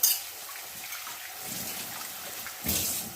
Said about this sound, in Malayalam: അതിനകത്ത് ഞാൻ കുറച്ച് വെള്ളം ഒഴിച്ച് വെച്ചേ